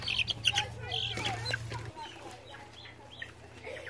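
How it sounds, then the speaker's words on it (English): A chicken clucks in short, faint bursts at a fall festival, with other bird chirps and background bustle and people talking nearby. "Do you not like the chicken?"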